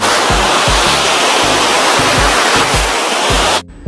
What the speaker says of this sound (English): you can feel the sound of the waves sitting on your bed